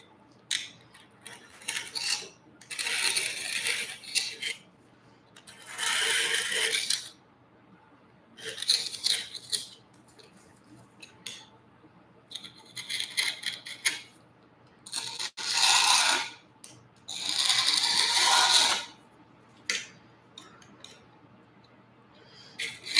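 A hand file rasps along a super sharp edge in a late-night shop, several separate bursts of scraping strokes, close and fairly loud, with quiet pauses between.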